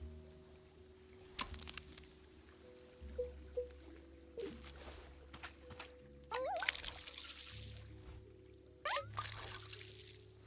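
Watering a plant in the video game Wanderstop, heard as several short bursts of pouring, trickling water between quieter stretches of background tones and soft clicks, with no talk.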